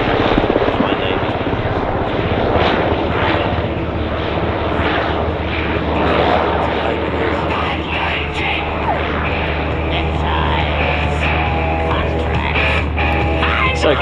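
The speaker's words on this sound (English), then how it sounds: "You'll note this is the only helicopter on display here." Loud, close helicopter noise from a Royal Australian Navy MH-60R Seahawk flying a display at an air show, a steady engine roar with rhythmic rotor chop, while voices talk underneath.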